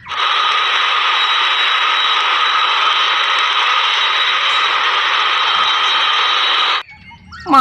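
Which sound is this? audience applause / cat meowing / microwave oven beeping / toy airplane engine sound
toy airplane engine sound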